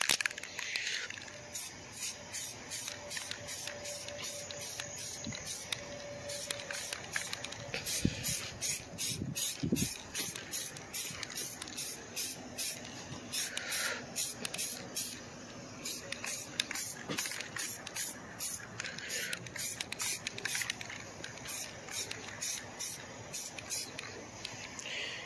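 A spray gun lays a heavier second coat of paint on interior car panels, hissing in steady repeated passes with short pauses between strokes, faint over a low background hum.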